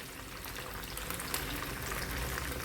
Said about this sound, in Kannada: ಚಿಕನಿಗೆಲ್ಲ ಸ್ವಲ್ಪ ಸಾಮಾನ್ಯವಾಗಿ ಸನ್ಫ್ಲವರ್ ಎಣ್ಣೆ ಹಾಕ್ಬಿಡ್ತೇನೆ ನಾನು ಫ್ರೈ ಮಾಡುವಾಗ.